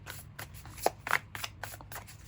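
Light Seers Tarot cards shuffled by hand, a soft run of papery riffles and slides with a few brief sharper flicks, close and fairly quiet, no talking.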